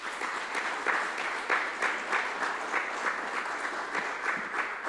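A church congregation gives a strong round of applause for recovered members, many hands clapping in a steady, even patter with a faint rhythmic pulse throughout. The sound is moderately loud and stands alone, with no talking over it.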